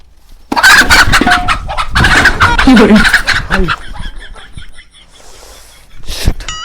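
A chicken clucks and squawks nearby while people talk loudly over it, then a sharp high call near the end.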